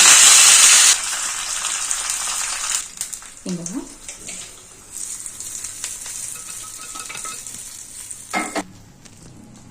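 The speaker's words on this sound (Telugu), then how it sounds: "పోపు దినుసులు వేసుకోవాలండి" Tempering spices crackle and sizzle in hot oil for a dosa chutney, opening with a loud sizzling burst that settles into steady frying with stirring scrapes and clinks. Brief talk is heard in the middle.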